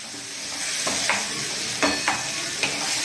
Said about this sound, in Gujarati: હવે આપણે એને બટરમાં સાતળી લઈશું.